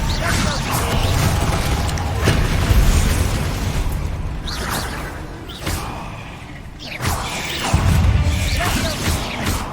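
Confringo spell blasts in Hogwarts Legacy go off as a run of booming explosions with crackling bursts, over a loud, dense backdrop of game effects and combat noise.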